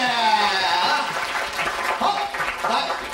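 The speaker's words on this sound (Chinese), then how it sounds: "掌声鼓励！" Studio audience applause on a Taiwanese TV variety show, a broad clatter of clapping running for a few seconds beneath a voice talking over it.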